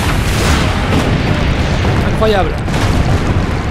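Cannon fire in the Assassin's Creed Brotherhood video game, a loud, continuous roar of booming blasts under game noise, with a voice speaking briefly partway through.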